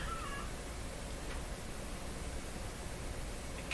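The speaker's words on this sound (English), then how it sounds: "That's the sound of my cats talking to each other." Pet cats calling to each other give a brief meow at the start, faint under a constant loud hiss of background noise.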